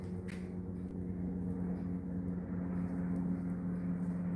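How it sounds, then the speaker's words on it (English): A helicopter flies in the background on an opal mining site, giving a steady, low droning rumble that stays constant and fairly faint throughout, with no talking. "there's a helicopter in the background"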